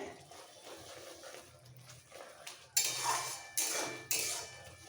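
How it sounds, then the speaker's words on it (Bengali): A metal spatula mashes softened tomatoes into a paste in a pan for tomato chutney with dates and mango leather. Three distinct scraping, clattering strokes land close together near the end, after a quieter stretch. "নরম হয়ে যাবে আর খুন্তি দিয়ে এই সময় একটু পেস্ট করে নিতে হবে"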